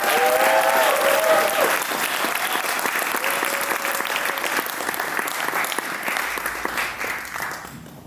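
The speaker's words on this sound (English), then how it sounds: "Big applause. Here is Focus." An audience gives loud, dense applause to the producer Focus, sustained clapping from a large crowd that stays strong before tapering slightly near the end.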